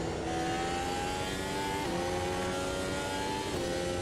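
A race car engine revs hard in Automobilista 2 at the Red Bull Ring, a loud sustained whine that dips briefly at gear changes and climbs again, with no talk over it.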